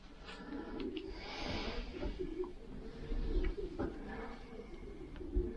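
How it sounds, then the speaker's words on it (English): A Belgian racing pigeon in a UK loft gives soft, low cooing calls, a few brief close murmurs over quiet background. "She's a Belgian pigeon"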